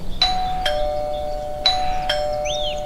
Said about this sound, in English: Daddy Pig rings the bell.